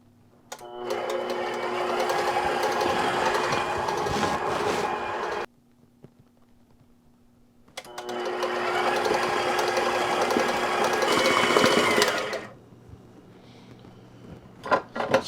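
A stand mixer paddle churns blue-dyed frosting for a Sleeping Beauty birthday cake. Two long whirring runs of the motor are split by a pause, with faint clatter after the machine stops.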